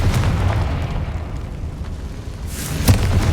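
A blasting-spell explosion from the Hogwarts Legacy game: a deep, rumbling boom running under continuous low roar, then a sharp burst near the end, loud and close with no talking.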